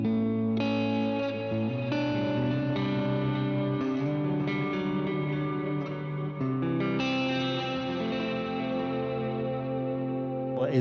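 A long, bright reverb effect washes over sustained, layered tones, with chorus and distortion colouring a dense, continuous wall of sound that swells and shifts through several chord changes, played without any voices.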